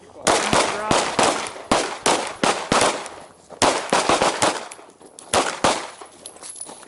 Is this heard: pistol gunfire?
yes